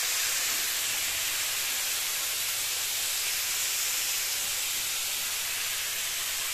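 Cauliflower and prawn biryani masala sizzling and frying in a pan, a steady close hiss that stays even and loud throughout with no talking.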